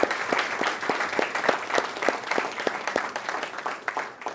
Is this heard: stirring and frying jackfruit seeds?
no